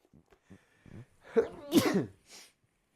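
A few short breaths build up to a single loud, close sneeze, followed by a brief exhale.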